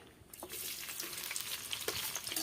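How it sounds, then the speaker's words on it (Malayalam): Sliced onions drop into hot coconut oil in a clay pot and burst into a loud, bright sizzle that starts abruptly and crackles steadily up close, with occasional stirring clinks. "സബോള ഇടുന്നു കേട്ടോ."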